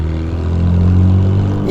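Novitec-tuned McLaren Artura with a 3-litre V6 and new exhaust, a steady loud low engine drone building slightly, close by, with speech over it.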